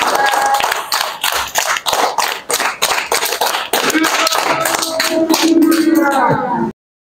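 An audience claps in a steady, fast rhythm for about seven seconds, loud and close, with voices talking and calling out over the claps before it cuts off abruptly.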